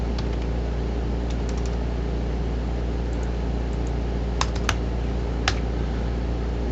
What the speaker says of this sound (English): We are going to type in done.